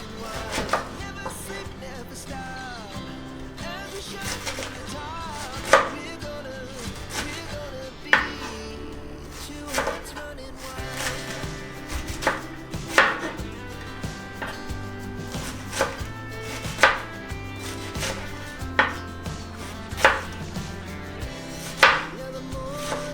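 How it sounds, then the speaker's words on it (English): A knife slices through cabbage on a cutting board, sharp irregular chops spaced a second or two apart, close and distinct over quiet background music. "So we're going to slice up the cabbage now, okay?"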